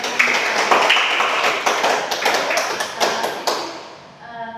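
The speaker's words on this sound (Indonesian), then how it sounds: "Kita tepuk tangan untuk kedua" A high school classroom applauds, a burst of hand clapping with sharp, uneven claps that thins out and fades toward the end.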